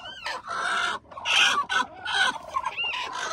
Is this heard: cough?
no